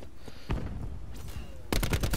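Gunfire in Call of Duty Black Ops 4 during an online match: several sharp bursts of shots, one around the middle and a denser rapid volley near the end, loud over steady game background.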